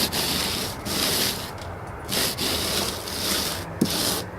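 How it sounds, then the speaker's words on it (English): A float rubs over a rough rapid-set stucco patch to bring up the aggregate, giving a close, steady gritty scraping in long strokes with short pauses between them. "I'm just rubbing it around and bringing up that aggregate."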